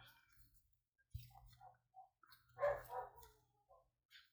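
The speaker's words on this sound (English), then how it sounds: "Oh, my dogs are having a fit." Small indoor dogs bark in short, scattered bursts, mostly faint and somewhat distant, with a few sharper yips in a quiet room.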